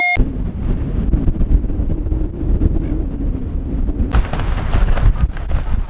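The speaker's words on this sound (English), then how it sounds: "It is so windy today" Strong wind on the Mornington Peninsula buffets the microphone with loud, continuous rumbling gusts, rising and falling without any talking.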